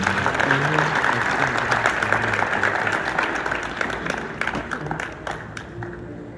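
A church congregation applauds and cheers the Lord during a healing service, a dense, steady wash of clapping and crowd noise held throughout, slowly thinning toward the end.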